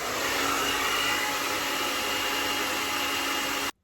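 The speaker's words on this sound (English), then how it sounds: "you hover it over your hair, it doesn't touch your hair, and always try and keep the diffuser pointed downwards" Hair dryer with a diffuser attachment blowing continuously over wavy hair, a loud, even whooshing roar that cuts off abruptly at the end.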